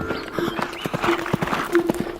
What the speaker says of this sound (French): Fais le cheval noir qui galope le soir